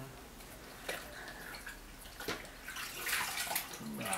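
Water runs and splashes steadily from a tap while a black charcoal clay face mask is rinsed off, with hands swishing through the stream and intermittent louder splashes up close.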